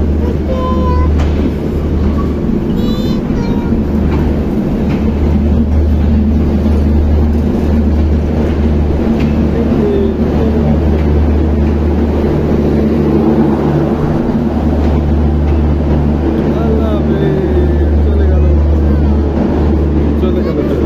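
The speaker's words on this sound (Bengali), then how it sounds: "ওই যে ট্রেন চলে যাচ্ছে।" A train passes at Chatmohar railway station, a loud, continuous low rumble and rolling drone running the whole time, with people talking over it nearby.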